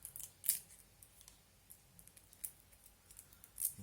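Yves Rocher eyebrow mascara packaging being opened up close, with faint crisp snips and crackles from paper or plastic, a few sharper ticks standing out against quiet room tone.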